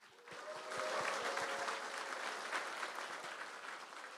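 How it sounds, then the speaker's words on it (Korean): Audience applause opening a university honorary doctorate ceremony marking a 55th anniversary, a full, sustained roar of clapping that swells after a brief start and stays even and dense throughout. "여러분 뜨거운 박수와 함성으로 시작하도록 하겠습니다"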